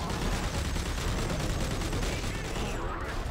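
Enemy gunfire in a video game, a dense continuous barrage of rapid shots filling the whole stretch, loud and close, with a faint voice now and then underneath.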